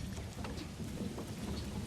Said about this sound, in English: Look how gorgeous this looks with the rain coming down here